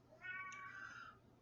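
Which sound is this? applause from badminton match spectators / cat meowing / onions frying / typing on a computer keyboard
cat meowing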